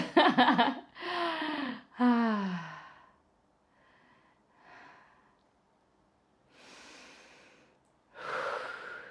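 Heavy breathing during a seated wheelchair HIIT workout: several loud, close, voiced exhales and sighing breaths come first, followed by quieter, breathy panting that fades and then swells again near the end.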